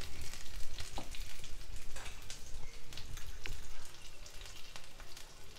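Ginger garlic paste frying in a pan while preparing poha, a steady close sizzle with scattered crackles and stirring scrapes running throughout, with no voices.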